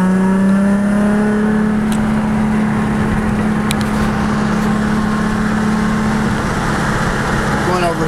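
A Nissan 350Z sports car drives late at night, its engine a steady low drone heard from inside the cabin, loud and continuous with little change in pitch.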